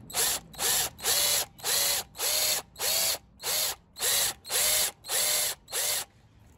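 A drill used as a carving tool on the body of a handmade Triquetra electric guitar whirs in ten even bursts of about half a second each, with short pauses between, loud and close with no talking.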